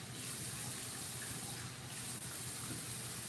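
Water poured into a bowl of cornstarch to make a slurry, a faint steady trickling gush running continuously with no talk over it.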